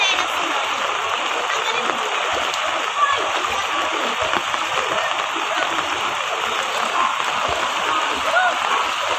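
Constant rushing and splashing of typhoon floodwater during heavy rain as someone wades through it, close and loud throughout, with voices talking over the water.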